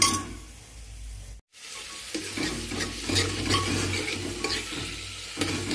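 Chopped tomatoes drop into a pan of cumin, garlic, onion and ginger already fried in oil, then sizzle steadily while being stirred with scraping strokes, close and continuous, with no speech.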